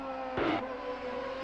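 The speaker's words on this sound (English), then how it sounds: "listen to the engine" A CART race car engine whines past on the final lap at Houston, a quick rising-then-falling drone that swells and fades over steady track background noise.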